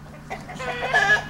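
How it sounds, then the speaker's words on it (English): Muscovy ducks perched and climbing in a tree in Tennessee, giving short clucking, fowl-like calls that build toward the end of a brief moment with no talk. "Here are a couple of Muscovy ducks climbing a Tennessee tree."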